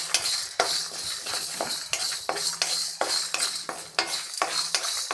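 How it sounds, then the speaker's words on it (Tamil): Curry leaves and three dried red chillies are stir-fried in a pan, a metal spoon scraping and clinking in a steady repeated rhythm over a faint sizzle, close and fairly loud, with no voices. "அப்படியே ஒரு 3 காஞ்ச மிளகாய் போட்டு ஃப்ரை பண்ணிக்கலாம்"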